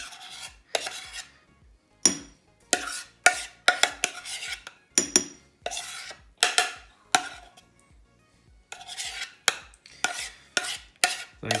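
A spoon scrapes whipped dalgona coffee from a bowl in quick repeated strokes, each a short sharp rasp with brief pauses between, close and clear with no talking.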